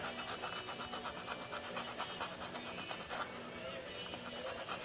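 Fast, rhythmic scrubbing strokes as a Scotch-Brite pad is rubbed over the distributor coil of a 1965 Chrysler 300 L, a close and fairly loud raspy back-and-forth with a brief pause before resuming.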